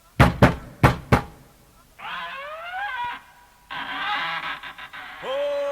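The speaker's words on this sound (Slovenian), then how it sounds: "Hektor, potrkaj." A door is knocked on in a Winnetou children's audio drama: four sharp, loud raps in quick pairs open the scene, followed by voices talking.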